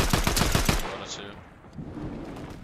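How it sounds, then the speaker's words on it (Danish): Rapid bursts of automatic gunfire in a competitive video game, a quick string of loud close shots that stops abruptly, followed by quieter game ambience. "Jeg hopper bare og skyder."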